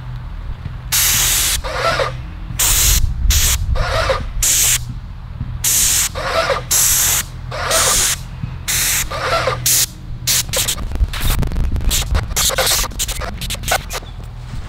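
A paint sprayer marking thin field lines on a lawn hisses in repeated bursts, loud and close, with short pauses between sprays, its pressure running a little too high.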